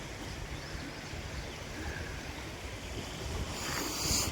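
The flooded Gangavati river, a swollen stream after heavy rain, rushes past in a steady broad roar with gusts of wind buffeting the microphone, continuous and fairly distant, with no voices.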